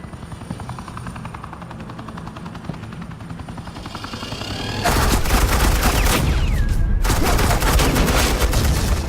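Suppressing gunfire in Batman: The Enemy Within, a loud, dense burst of shots that starts about halfway through and keeps on without letting up over a low droning hum like a hovering helicopter.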